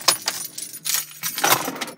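Keys jangle in short repeated bursts of metallic clinking, close and fairly loud, with brief pauses between shakes and no talking.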